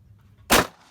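A single sharp shotgun blast at an outdoor clay pigeon shoot bursts out of near quiet, booming briefly before decaying quickly back to a low background.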